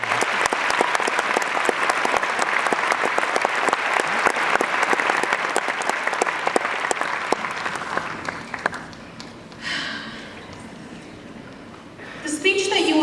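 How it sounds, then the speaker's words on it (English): Audience applause welcoming a student speaker to the stage at a senior speech, a sustained wash of clapping that carries for about eight seconds before thinning out, with a few scattered claps and faint murmurs at the end. "Please give a warm welcome to Anjali."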